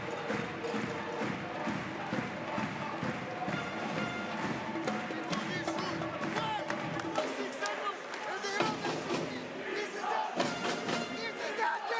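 A basketball arena crowd at a FIBA World Cup qualifier between Iceland and Georgia roars and chants loudly and continuously, with shouts and claps throughout and a commentator talking over it.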